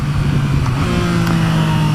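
A 2017 Yamaha FZ-09 motorcycle engine drones steadily while being ridden with traction control off, a close, continuous low hum with slight pitch shifts and wind noise over two seconds, no talking.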